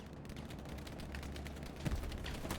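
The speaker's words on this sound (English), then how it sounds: "The MGs are ripping" Machine gun fire in Hell Let Loose in a Hürtgen Forest battle, heard as a steady, faint, distant rattle of rapid shots under a low rumble, with one slightly louder thump near the end.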